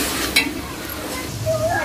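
Masala for vegetable pulao frying and being stirred in a pot over a chulha, a soft sizzle with a sharp clink of a spoon early on and faint scraping, quiet and close.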